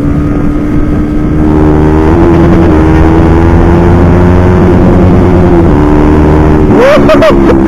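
A loud, close engine holds a steady high rev against the rev limiter, its tone wavering as it bounces off the cutoff, then briefly drops and rises again near the end, with no talk.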